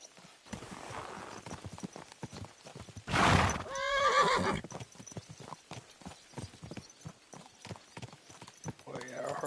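Hooves clip-clop in a quick, steady rhythm as a horse is ridden in the video game Kingdom Come Deliverance II, and a loud whinny breaks out midway before the hoofbeats carry on.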